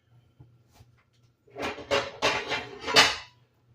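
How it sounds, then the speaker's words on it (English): A metal baking pan for meatloaf is pulled out and handled in a home kitchen. After a quiet start come several close, loud metallic clatters and clanks in quick succession, with no talking. "I think I am going to go ahead and get a different pan while I got my hands cleaned"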